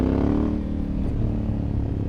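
A Honda Africa Twin motorcycle engine drops from a higher whine to a low, steady rumble as the throttle closes for engine braking, running loud and close throughout.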